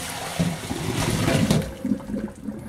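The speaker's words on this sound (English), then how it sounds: "we're going to drain the water." Cooking water drains from a pot of cooked pork belly, a loud gushing, splashing pour that runs for a few seconds and tapers off near the end.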